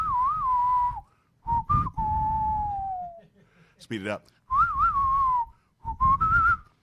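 A person whistles a wavering, siren-like tune in several short bursts close to the microphone, with a brief spoken phrase in between.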